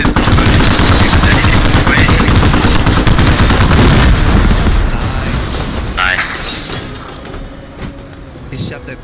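Gunfire in the Squad video game, with dense rapid bursts and heavy booms rolling loudly for several seconds, then thinning out and fading, while voices talk over it.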